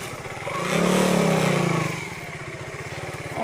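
A motorcycle engine runs close by, swelling into a brief rev before settling back to a fast, even putter with steady rhythmic pulses and no talk.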